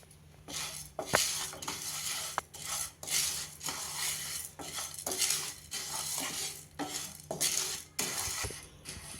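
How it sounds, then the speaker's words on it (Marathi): Toor, masoor and moong dal dry-roast over a medium flame for rasam powder, the lentils rattling and scraping with rhythmic swishes of a spoon against the pan and occasional metallic clinks, close with no talk. "आपण डाळ मिडियम फ्लेमवर भाजतोय"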